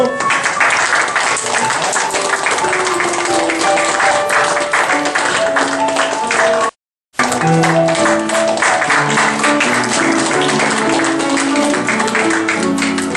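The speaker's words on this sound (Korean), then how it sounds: "박수 한번 주시죠." Audience applause at a peace and reunification prayer meeting fills the stretch, broad and steady, with music or voices mixed in, a brief silent gap near the middle, then continuing at the same loud level.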